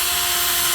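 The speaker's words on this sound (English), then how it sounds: "we have to drill into the car now" Drill bores into the factory cluster bezel of a Mitsubishi Eclipse GSX, giving a brief, steady, close-up whirring whine.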